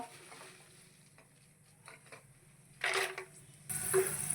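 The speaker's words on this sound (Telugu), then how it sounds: "ఇదే నూనెలో కొంచెం పల్లీలు వేయించుకుందాము." Peanuts fry in hot oil, with faint, low crackling that swells into brief louder sizzling bursts near the end, alongside light stirring and scraping sounds.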